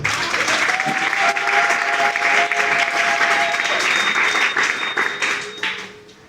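Church congregation applauding during a sermon, a dense, steady wash of many hands clapping at full strength that carries on for several seconds before tapering off at the end.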